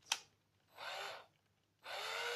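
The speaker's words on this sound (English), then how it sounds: "you can actually go very slowly and get a good torque on the drill" A small click, then two short whirring bursts of a Black and Decker EGBL 18 cordless drill spinning at low speed, close and fairly quiet with a pause between.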